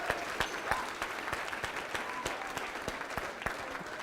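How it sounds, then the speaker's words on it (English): Audience applause at a black tie gala as six people come up onto the stage: steady, fairly faint clapping from a crowd, with sharper individual claps standing out, continuing evenly throughout. "I want you to give those 6 a huge round of applause as they join me right up here on stage."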